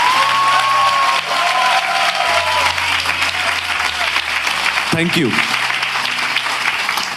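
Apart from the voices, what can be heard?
audience applause in church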